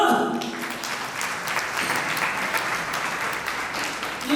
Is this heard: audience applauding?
yes